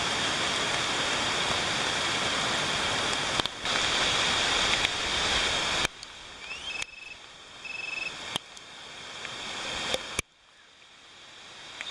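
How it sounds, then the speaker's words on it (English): Dense, steady rush of heavy monsoon-like rain pouring down at a backcountry campsite in Great Smoky Mountains National Park, loud and continuous, with a few sharp knocks and clicks, fading slightly near the end. "So it started pouring rain, like monsoon pouring."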